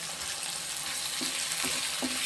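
Steady, dense sizzling of onions and tomatoes frying in a hot pan, with a few faint stirring scrapes, close and continuous.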